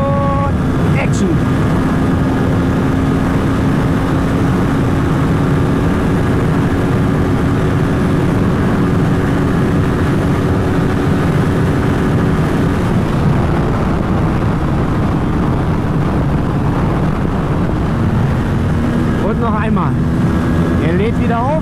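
Kawasaki Ninja 7 Hybrid motorcycle on a top-speed run in sixth gear with e-boost, its engine droning steadily and loudly throughout with heavy wind buffeting, pitch shifting near the end; a rider's voice is heard over it.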